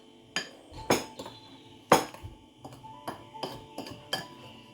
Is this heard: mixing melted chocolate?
yes